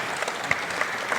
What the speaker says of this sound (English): Can we have a round of applause for these fine gentlemen?